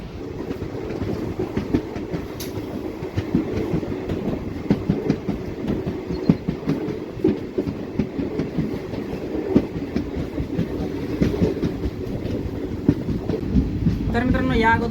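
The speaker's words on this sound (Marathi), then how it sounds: "7:27 निघालेली आहे बार्शीवरून आपली ट्रेन." The 11414 Nizamabad Express rolls on just after departing Barshi, a continuous rumbling ride with rhythmic clickety-clack of wheels over rail joints, heard from inside a coach with faint voices beneath.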